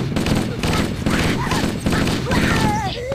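Rapid assault rifle fire in Halo: Combat Evolved, a steady loud stream of bursts lasting several seconds, with game effects and faint voices mixed underneath.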